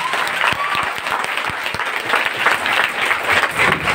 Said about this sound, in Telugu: మన తల్లిదండ్రులకు ఒకసారి గ్రాండ్ క్లాప్స్ ఇద్దాం